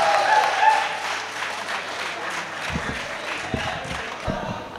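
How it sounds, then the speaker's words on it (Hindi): A mushaira audience in Malegaon applauds to welcome a female poet to the stage: dense, sustained clapping from a large crowd fills the whole stretch at a steady level. "पुरजोर तालियों में इस्तकबाल"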